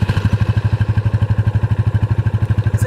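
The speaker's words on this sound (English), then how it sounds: "if you want to listen to the stock exhaust" A motorcycle with its stock exhaust runs at a steady idle, giving a loud, close, bassy and rhythmic putter with even pulses throughout.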